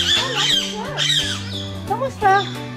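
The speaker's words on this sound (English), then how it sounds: "The blue-naped parrot." A blue-naped parrot lets out a string of harsh, close squawks and chattering calls with rising and falling tones, mixed with people talking nearby in Palawan, Philippines.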